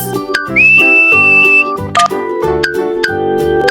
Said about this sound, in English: What's whistling anyway? You put your lips together and blow. Like this.